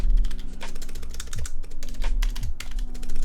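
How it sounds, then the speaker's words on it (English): Keys on a Norbauer Heavy 9 mechanical keyboard being typed steadily, with a slightly rattly, clacky character from the stabilized keys, close and fairly loud with no talking. "these keys might sound a bit rattly just by nature of the stabilization itself"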